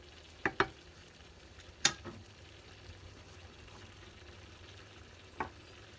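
Paella rice and seafood sizzle steadily in a pan, with a few sharp scrapes and clinks as a utensil stirs it, three or four distinct knocks standing out over the constant frying hiss.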